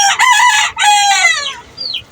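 Chickens on a small farm give two loud, close drawn-out clucking calls back to back, followed by a brief higher squawk.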